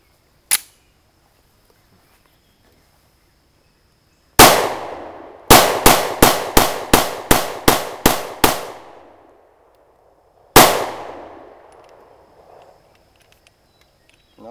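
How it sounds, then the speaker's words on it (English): Sharp, loud pistol shots from a Sccy CPX-2 at an outdoor range: one early shot, then a rapid string of about nine cracks fired in quick rhythm, each with a short ringing tail, followed by one more shot after a pause. "gonna try rapid fire both magazines here."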